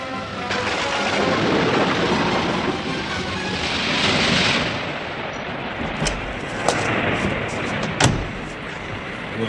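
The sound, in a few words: storm at sea with thunder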